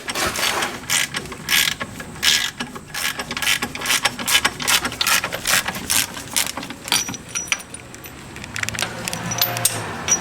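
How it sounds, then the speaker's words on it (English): A ratchet wrench clicks rapidly as it loosens the plate of a Maximum Motorsports spring tool during a Fox Body suspension install, quick repeated close bursts of ratcheting with brief pauses and no talk. "we're loosening up the plate for that Maximum Motorsports spring tool"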